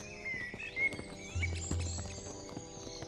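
Hooves of a horse clip-clopping in a steady walking rhythm for a riding scene in an animated Indonesian legend, moderately close, with faint bird chirps in the background and no talking.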